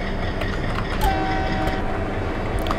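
WDM3A diesel locomotive on shunting duty at Vadodara Junction in the Open Rails train simulator, with a loud, steady engine and rail rumble throughout and a brief, thin horn tone sounding through the middle.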